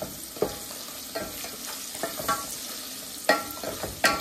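Onions and dried chillies being stir-fried in a pan for a lentil and vegetable dish, a steady sizzle broken by repeated spatula scrapes and clacks at irregular intervals, close and moderately loud with no talking.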